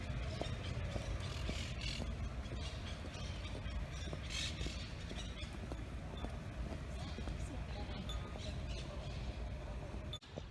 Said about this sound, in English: there's a really noisy birds going on